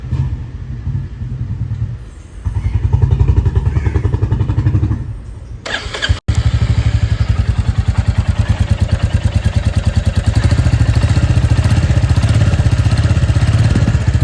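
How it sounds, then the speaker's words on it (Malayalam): A latest-model Bullet motorcycle idles close by with a deep, rhythmic thumping exhaust beat, briefly cuts out with a sharp clack, then restarts and keeps pounding loudly and steadily. "ഈ ലേറ്റസ്റ്റ് മോഡലിൻ്റെ എക്സോസിൻ്റെ സൗണ്ട്, അതായത് എഞ്ചിൻ്റെ സൗണ്ടും എക്സോസിൻ്റെ സൗണ്ടും ഞാൻ ജസ്റ്റ് ഒന്ന് കേൾപ്പിച്ച് തരാം"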